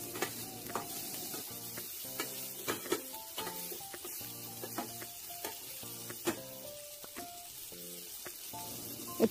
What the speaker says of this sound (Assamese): মই পিয়াজ কাজু জলিকা তেজপাত এইকেইটা বস্তু দি পেলে লৰাই আছোঁ এইটো অকণ ফ্ৰাই কৰি